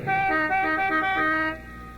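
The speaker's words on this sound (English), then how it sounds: "Could I honk the horn just once?" A Rolls-Royce limousine horn gives one loud, sustained honk of about one and a half seconds with a rich, harmonic tone, then cuts off, leaving quieter background.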